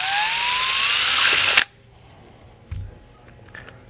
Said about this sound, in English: We're going to use our drill, and we're going to drill right through the holes